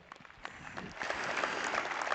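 A crowd at a junior market steer show at a stock show claps, the applause building from scattered claps into steady, fairly distant clapping across the arena.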